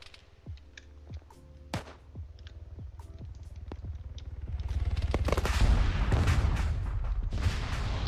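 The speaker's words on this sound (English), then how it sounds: "And so, the MGs begin." Machine guns open up in the Arma 3 military shooter, starting as scattered distant bursts and individual shots, then building into dense, continuous gunfire that grows louder and rolls on without voices.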